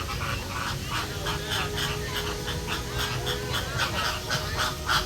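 Pink birds at SeaWorld Orlando squawking and honking in a rapid, repeated series, a busy flock chorus at moderate distance with overlapping goose-like calls.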